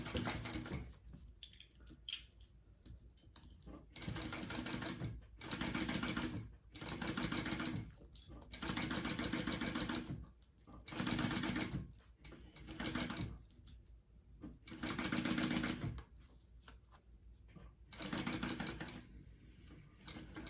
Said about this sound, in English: we are going to baste this, which means an 1/8 inch seam allowance